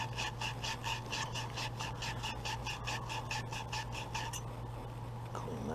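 Grit cloth rubs rhythmically back and forth on a metal drill part, about a dozen quick rasping strokes close by, then the scraping stops and the room goes quiet.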